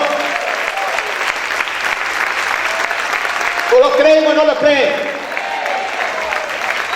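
A church congregation keeps up loud, dense applause while a preacher's voice speaks over it, the clapping continuing steadily throughout.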